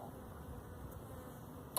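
Honey bees buzz faintly around a beehive in a continuous low drone, with one brief sharp tick near the end.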